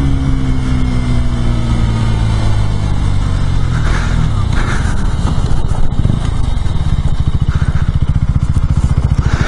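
A 2017 KTM Duke 125 ABS being ridden, its engine loud and close with rising and falling pitch as it downshifts, wind rushing throughout.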